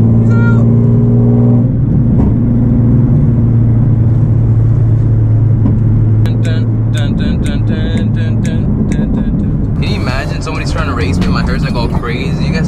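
An insanely loud Nissan car engine rumbles and revs while driving, a heavy low drone that shifts in pitch, with bursts of talk and other noise over the second half.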